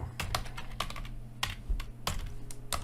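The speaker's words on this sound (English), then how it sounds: "excuse my typing" Rapid, uneven keystrokes on a computer keyboard while writing Angular code, a steady patter of clicks with a few louder key hits over a low hum.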